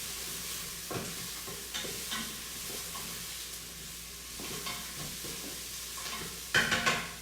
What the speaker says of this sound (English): So I'm going to pop in our garlic and a carrot and stir that around.